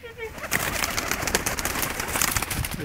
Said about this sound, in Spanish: pues cría estas palomas blancas